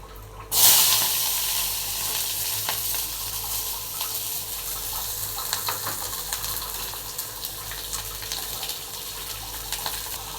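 Chopped big onions dropped into hot oil with popped mustard seeds, a sudden loud hiss at the start settling into a steady, dense sizzle with faint crackles throughout, no voices.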